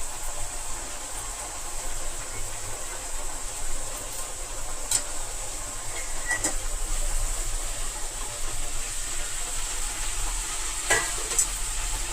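Malabar spinach fry stirs in a pan, a constant soft sizzle beneath occasional sharp scrapes and clicks of a spatula against the pan, with no talking.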